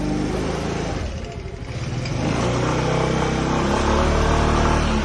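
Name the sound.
motorcycle being taken out, engine running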